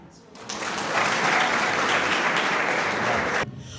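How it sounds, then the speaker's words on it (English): An audience at a Francophonie celebration breaks into applause that swells within a second, holds as full dense clapping for about three seconds, then cuts off, with some voices around it. "Applaudissez pour eux. We clap for them."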